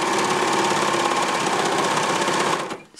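A serger stitches the edge of sweatshirt fabric in a steady, rapid mechanical whir for nearly three seconds, close and clear with no talking, then stops abruptly.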